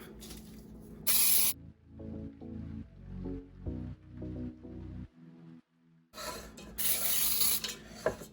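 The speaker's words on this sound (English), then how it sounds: "here we have our pan and we are going to spray with Baker's Joy" Baker's Joy baking spray hissing onto a cake pan in a home kitchen: several short close bursts in a steady stuttering rhythm, bracketed by louder clattering handling noise before and after.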